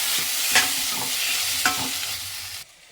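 Finely chopped tomatoes and a couple of sprigs of curry leaves are stirred in a hot pan, a steady sizzle with scraping spoon strokes at a relaxed rhythm, close and clear, ending abruptly.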